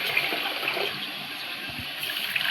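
Water poured into a bowl of urad dal to soak, a continuous splashing, gushing pour heard close up and fairly steady, with no talk.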